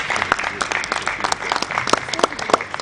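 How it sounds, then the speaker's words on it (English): An audience at a conference on financial fraud and cybercrime applauds, giving dense steady clapping throughout with light crowd murmur beneath. "Another round of applause for him,"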